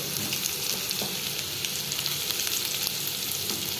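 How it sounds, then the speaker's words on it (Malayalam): Ground coconut paste with salt sizzles steadily in hot oil for a Kerala-style cucumber thoran, with a few soft stirring scrapes over a close, continuous frying hiss and no voices. "ഉപ്പും കൂടി ഇട്ടിട്ട് ആ എണ്ണയിൽ ഇളക്കി പച്ച ചേവ മാറുന്നത് വരെ ഒന്ന് ചെറുതായിട്ടൊന്ന് ഇളക്കണം"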